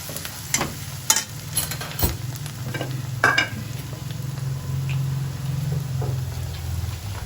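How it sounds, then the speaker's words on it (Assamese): Spices being stirred in a frying pan while making egg chop, a continuous low sizzle under irregular scrapes and clicks of the spoon against the pan, close and fairly quiet. "এইখিনি দিয়াৰ পিছত এতিয়া মই লৰাই দিম।"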